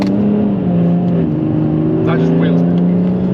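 A diesel car fitted with a custom-built DPF delete downpipe idles and revs close by, a loud, rough, steady engine drone with a brief rise in pitch, while someone speaks over it.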